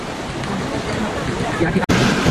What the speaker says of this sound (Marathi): आता लिंगमाळा धबधबा इथे पोहोचलेला आहे